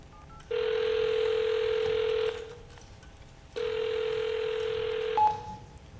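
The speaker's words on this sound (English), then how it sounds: "Need to make a phone call before we get going." A telephone tone rings out in two long, even bursts separated by a short pause, clear and close, ending with a brief higher click.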